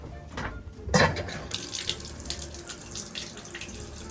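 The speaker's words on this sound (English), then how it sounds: "You want to turn your bathtub on?" A household bathtub tap is turned on and water gushes into the tub, starting with a sudden splash and settling into a steady, close rushing pour with no one talking.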